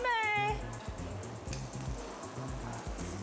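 Soju pours into a small glass at a Korean bar-food table, a short faint trickling gurgle that starts after a brief spoken moment, with background chatter and clinks.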